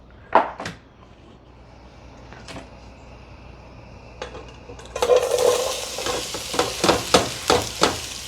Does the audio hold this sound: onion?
yes